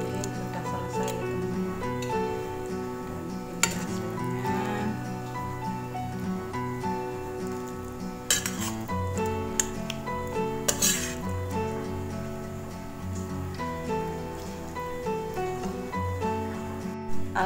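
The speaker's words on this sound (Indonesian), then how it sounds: "Kita tuang ke piring saji." Fish sambal made with ribbonfish being poured from a pan onto a serving plate, with scattered clinks and scrapes of a utensil against metal and dishes, fairly close, over faint background music.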